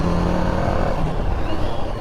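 A Kerala-registered vehicle moves along a road, its steady engine and tyre rumble close and continuous throughout, with no talking.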